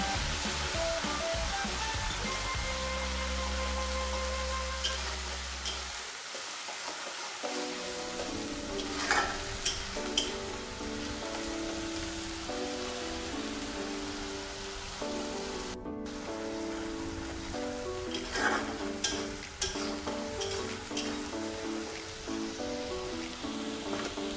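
Onion paste sizzles steadily in hot oil for a Kolkata-style rohu fish biryani, a close, even hiss with brief stirring scrapes and background music, no talking.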